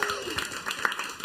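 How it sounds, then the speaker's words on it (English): Comedy club audience at the end of a stand-up set applauding steadily, a dense wash of clapping with a few sharper claps, fairly close, brief and continuous. "give applause for Rasmus again"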